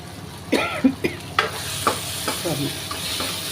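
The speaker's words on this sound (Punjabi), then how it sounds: "ਤੜਕਾ ਲਾ ਰਹੀ ਹਾਂ" A tadka tempers in hot mustard oil with a steady, close sizzle, while a ladle stirs and scrapes through it in several distinct knocks and swishes.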